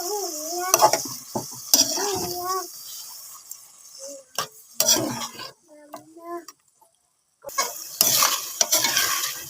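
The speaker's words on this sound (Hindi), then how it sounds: "गोश्त बीफ की कढ़ाई, वो हम इसमें ऐड कर देंगे। उसकी भी थोड़ी देर के लिए भुनाई करेंगे अच्छे से।" Beef karahi stir-fried with browned onions in a karahi, stirring and scraping in bursts with pauses, a light sizzle underneath, and someone speaking over much of it.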